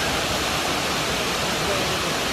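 A larger waterfall in the Azores, heard as a steady broadband rush of falling water that stays loud and unbroken from start to end with no voices.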